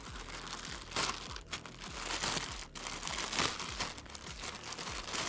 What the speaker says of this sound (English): Let's tear these open and see what's inside this bag.